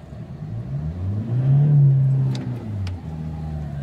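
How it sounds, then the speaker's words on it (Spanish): Toyota Hilux 4x4 pulling out of mud, its engine revving up and swelling loudly before easing back, heard close with no talk. "Vamos a salir del barro acelerando. A ver cómo responde la maquinita."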